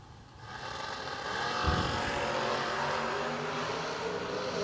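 Drag racing dragsters at a track roar in the distance, a broad engine rumble swelling within the first second and then holding as a sustained loud wash of noise.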